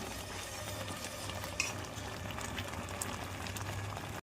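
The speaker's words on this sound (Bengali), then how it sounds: "ভালো করে নেড়ে ছেড়ে গাঢ় করে নিতে হবে। যতক্ষণ না গাঢ় হবে ততক্ষণ নাড়তে হবে।" Mango pulp boils thickly in a pot for homemade aamsatta mango leather while it is stirred, giving a steady low bubbling burble with soft scraping and a couple of light utensil clicks.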